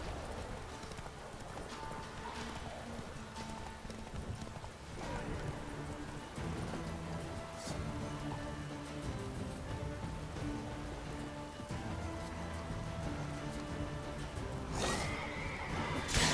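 Hooves clip-clop steadily through a scene in The Witcher 3: Wild Hunt with rain pattering, and a horse neighs a couple of times, with faint talking in the mix.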